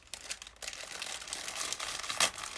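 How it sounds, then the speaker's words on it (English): Cellophane bag holding small decorative pumpkins, gourds and mini pine cones crinkling and rustling in close bursts, with a louder crackle near the end and no talking. "Sorry for the cellophane noise."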